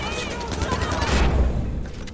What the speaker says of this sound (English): That grenade went off quicker than I was expecting.